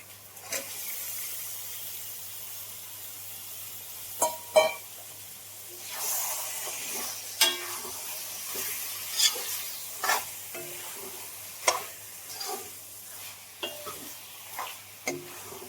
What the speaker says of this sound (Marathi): आता यात सोडते मी हे चिकन